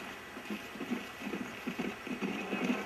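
Horse hooves clip-clop steadily in Red Dead Redemption, a regular rhythmic beat of in-game hoofsteps running through the whole stretch at moderate loudness over a faint background hum.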